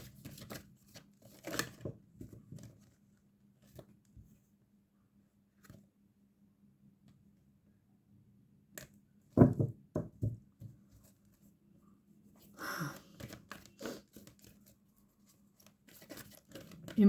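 Tarot cards being shuffled by hand: short bursts of crisp riffling and tapping, close and fairly faint, separated by quiet pauses.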